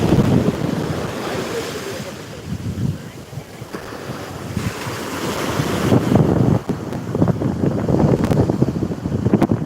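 Calm sea waves wash steadily onto a home-town beach, a continuous surf roar with gusty wind buffeting the microphone and no voices.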